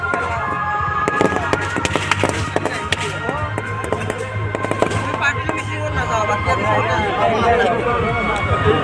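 Fireworks and firecrackers burst in a rapid scatter of sharp cracks and pops at a night football match opening, with a crowd and voices talking over the din.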